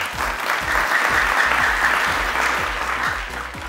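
A studio audience on a Persian family-feud game show applauds, a dense, loud and steady clapping that fills the room for several seconds with no voices over it.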